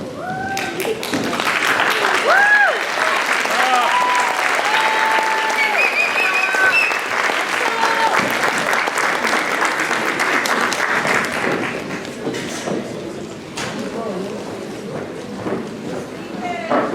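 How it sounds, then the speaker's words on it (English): Prolonged applause and cheering from a crowd at a school ring ceremony, with whoops and calls rising over steady clapping before it thins toward the end. "Please hold your applause until all names are called"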